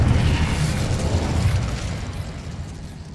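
An Incendio fire spell goes off in a Hogwarts video game, a loud rumbling burst of flame that fades slowly over a few seconds, with no voices.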